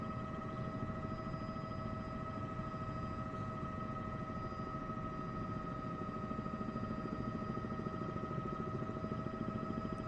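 A Bell 206 helicopter in Microsoft Flight Simulator 2024 flies with a continuous, even rotor and turbine hum, fairly faint and unchanging, with no talking.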